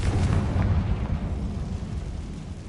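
Confringo fire spell from Hogwarts Legacy going off as a deep, rumbling explosion, loud and close, with a low boom that slowly tails away.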